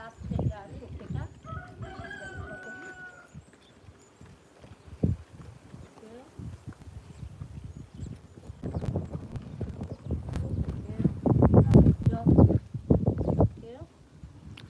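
Hooves of a ridden horse clip-clop steadily on a windy day, a rhythmic series of hoofbeats that grows louder and busier toward the end, with a rooster crowing and hens clucking in the background and a rider talking at times.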